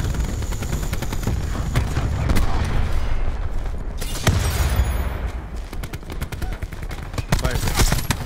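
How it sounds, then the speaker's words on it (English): Rapid bursts of explosions and gunfire from a cluster grenade on a Black Ops 4 firing range map, popping in quick uneven strings with a couple of heavier booms partway through and loud throughout. "Cluster grenade."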